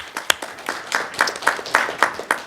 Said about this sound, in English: we need to give them another round of applause